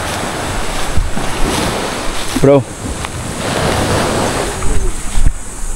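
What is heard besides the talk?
loud ocean waves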